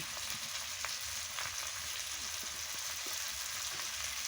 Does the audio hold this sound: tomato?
yes